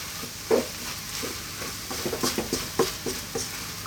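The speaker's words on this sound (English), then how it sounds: "And just with the heat off, give it a mix." A vegetable burrito filling with grated cheddar cheese is stirred in a pan with the heat off, giving soft scraping and wet patting spoon strokes in an irregular rhythm, close and fairly quiet.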